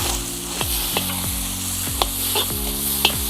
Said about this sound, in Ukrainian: Нам треба його обсмажити. Потрібно гарно подрібнити фарш, щоб він рівномірно обсмажився.